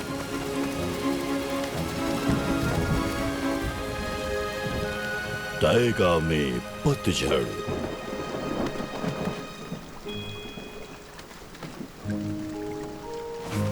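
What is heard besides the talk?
rain and thunderstorm in a cartoon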